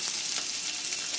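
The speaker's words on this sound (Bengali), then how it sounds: "এখন আমি এই তেলের মধ্যে পেঁয়াজটা আর রসুনটাকে ভেজে নেব।" Onion and garlic fry in hot oil in a pan with a steady, close, dense sizzling hiss that stays even throughout, broken only by faint crackles and no voices.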